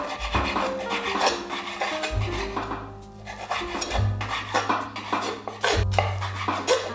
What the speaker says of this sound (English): Let's start cutting our sausage to smaller pieces